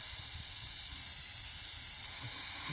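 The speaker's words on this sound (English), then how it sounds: "do a little light spray around here" A steady, close hiss of an aerosol lubricant spray on an old window motor, held down continuously for a few seconds, bright and airy with no voices.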